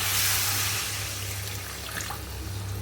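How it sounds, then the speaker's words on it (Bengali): Hot water poured into a simmering potato curry in a home kitchen, a steady broadband liquid rush loudest at the start and easing slightly, heard alone over a low steady hum. "এবারে গরম জলটা দিয়ে দিই"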